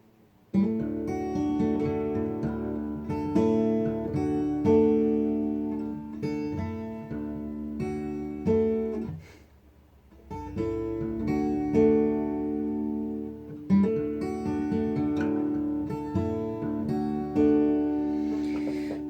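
Acoustic guitar fingerpicking of a song, a flowing pattern of ringing notes and chords played in two phrases separated by a brief pause, close and clear.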